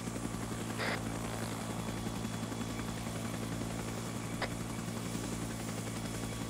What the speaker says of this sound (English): we got the Huey coming back